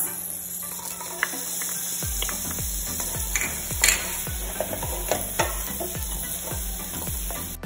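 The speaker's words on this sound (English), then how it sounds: "you're going to saute your garlic, your onions, right? And your carrots." Garlic, onions and carrots sautéing in a little oil for pineapple chicken fried rice, a steady close sizzle with a spatula scraping the pan in a regular rhythm of repeated strokes, no talking.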